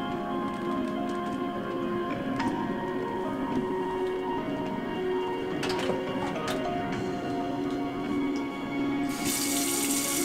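A bathroom tap runs steadily into the sink while someone brushes their teeth, a constant close hiss of flowing water with a few small clicks and knocks, and no talk.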